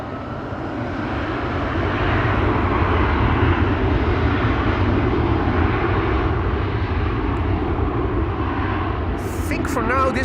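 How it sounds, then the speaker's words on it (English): An airliner departs from runway 18 Left at Amsterdam Schiphol, its loud jet roar swelling and holding steady for about ten seconds, with a brief clatter near the end. "this will have been the last departure from 18 left"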